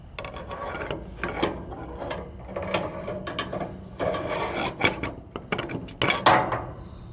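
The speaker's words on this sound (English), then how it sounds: "Try a screwdriver down in there and see if we can see if there's anything more in there." A screwdriver scraping and probing inside a pool heater that had a knocking noise: irregular gritty rasping, rubbing and metallic clicks in uneven bursts, close up with no talk.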